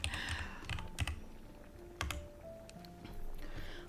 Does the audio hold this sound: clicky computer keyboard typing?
yes